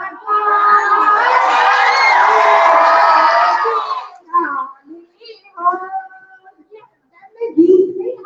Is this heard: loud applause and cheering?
yes